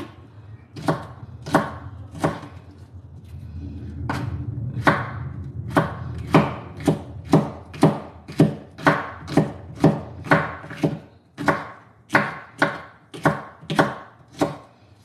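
A knife chops food on a cutting board for a fish papillote, a steady run of about twenty crisp, close knocks in an even rhythm with brief pauses, no talking.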